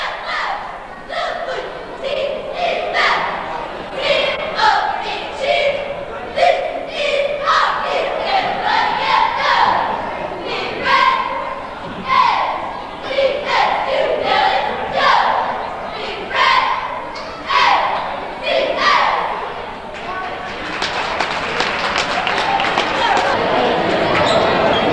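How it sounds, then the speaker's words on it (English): A high school varsity cheering squad performs on the floor at a boys' basketball game, with rhythmic shouted chants and claps ringing through the gym over crowd noise for the whole stretch, swelling louder near the end. "Moriah varsity cheering squad on the floor."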